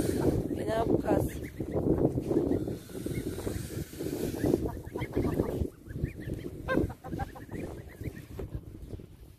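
Several geese honk in bursts over a noisy outdoor background, with people talking nearby.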